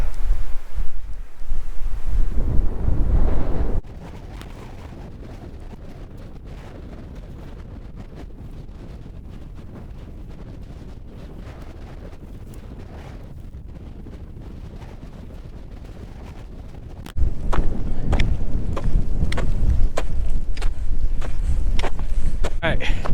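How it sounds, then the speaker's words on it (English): Strong winter wind buffets the microphone outdoors in heavy roaring gusts, easing to a steadier rush in the middle before surging loudly again near the end. "Very windy."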